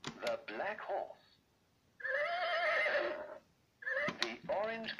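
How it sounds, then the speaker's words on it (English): A Chicco talking farm toy's synthesized horse neigh, a bright wavering whinny, plays between short bursts of recorded speech; loud and close. "The black horse."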